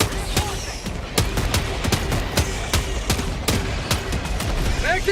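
Grenade launcher firing in Helldivers 2 video game, a rapid run of sharp repeated bursts amid constant battle noise and rumble, loud and close.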